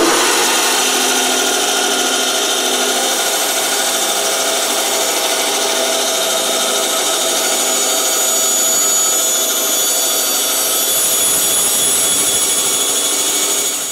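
A power tool cuts through wood for a game box, a loud, continuous high whining and rasping grind held steadily at close range for the whole stretch, easing off at the very end.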